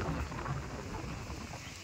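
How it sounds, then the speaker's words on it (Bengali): Strong, cold wind roars and buffets in a continuous low rumble, loud and close, at Deira Island beach in Dubai, with no voices. "বুঝতেই পারতেছেন কি পরিমাণ বাতাস"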